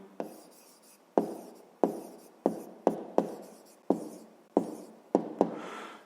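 A pen writes numbers by hand on paper in a string of sharp scratchy strokes, each a quick tap that trails off, about a dozen in a loose irregular rhythm, close and quiet.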